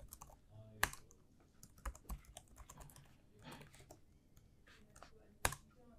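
Fingers tap on a computer keyboard to enter login credentials, giving quiet, irregular clicks with a few louder keystrokes, close by in a quiet room.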